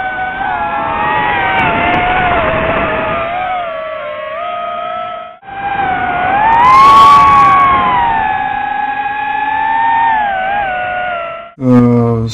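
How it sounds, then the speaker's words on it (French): Steady high-pitched whirring of DJI FPV drone motors, rising and falling in pitch as they throttle, with a brief break midway and a short burst at the end. "on entend le son des moteurs."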